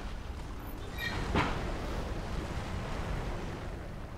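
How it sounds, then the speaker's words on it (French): Wind blowing through the environment in Dark Souls 3, a steady whooshing roar with a brief sharp swell near the start, moderately loud, heard alone. "Il y a du vent là, c'est ouf."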